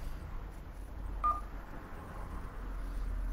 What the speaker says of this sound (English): we are logged into the dialer.